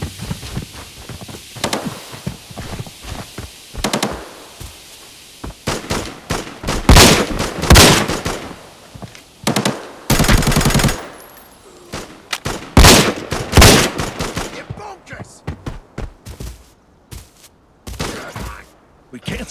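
Bursts of automatic gunfire during a firefight in the shooter game Arena Breakout, loud, repeated volleys, some long and some short, with booming impacts and shouted voices between them.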